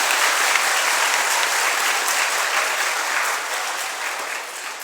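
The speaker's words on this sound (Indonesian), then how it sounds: "Ini dulu, tepuk tangan dulu." An audience at a Hindu anniversary celebration and dharma talk breaks into dense, sustained applause, a thick wash of many hands clapping at once, loud and continuous, tapering slightly toward the end.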